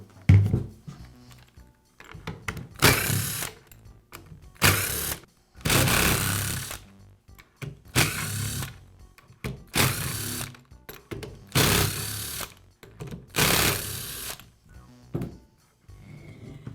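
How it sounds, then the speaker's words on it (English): Housing screws on a Makita belt sander are backed out with a power driver in about eight separate short bursts of whirring and ratcheting, close up, with quiet pauses between each burst and no talking. "I'll begin by removing one side of the motor housing."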